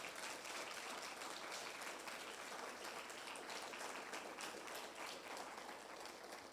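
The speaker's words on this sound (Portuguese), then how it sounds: "Você pode dar uma salva de palmas a Jesus?" A church congregation claps together after a baptism, a thick continuous wave of applause that holds steady and fills the hall without a break.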